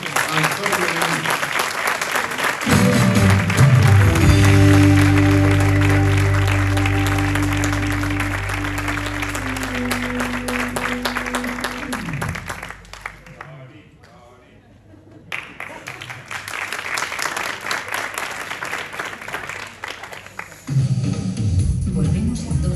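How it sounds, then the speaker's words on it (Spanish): Applause for colleague Antonio Benítez at the close of a radio program, clapping heard under a rising musical sting and talk, dropping away briefly before more clapping returns near the end. "despedimos con un aplauso a nuestro gran compañero Antonio Benítez"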